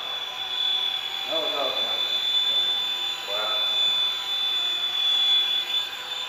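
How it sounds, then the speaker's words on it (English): A small Radio Shack radio-controlled helicopter flies indoors, giving a steady high-pitched motor whine and rotor buzz throughout, with brief voices talking faintly in the room. "Helicopter."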